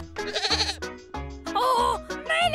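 A cartoon goat bleats several times in quick succession, loud and close, with wavering nasal cries and brief gaps between them.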